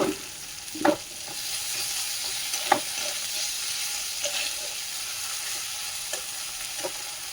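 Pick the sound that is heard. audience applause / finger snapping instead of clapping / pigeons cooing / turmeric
turmeric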